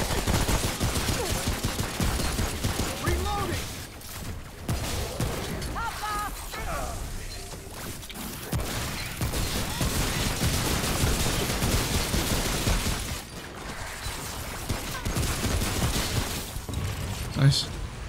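Shotgun blasts in the video game Remnant From the Ashes, with repeated loud booming shots and crashing impacts amid continuous combat noise. Someone talks over the action throughout.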